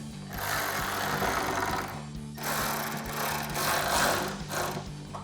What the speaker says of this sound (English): take our 4mm Allen socket and 10mm wrench to tighten those two bolts down